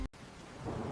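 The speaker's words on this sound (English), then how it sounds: "Rain falls outside." Rain falls steadily on a rainy evening, with a low rumble of thunder. The wash is brief and continuous, swells slightly near the end, and no one speaks.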